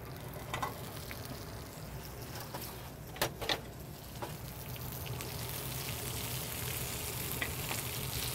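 Spinach, about two cups, wilting in a hot pan with a steady, fairly loud sizzle and frying hiss, a few brief clicks and stirs breaking through mid-way, no one talking.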